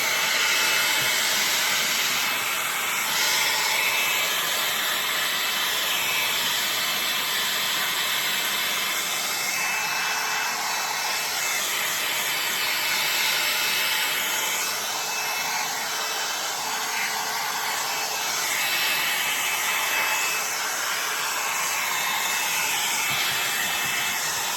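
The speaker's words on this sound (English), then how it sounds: "when you're shrink wrapping, make sure to keep your heat evenly distributed" A heat tool blows hot air steadily for shrink wrapping, a loud continuous hiss that carries on unbroken with no voices.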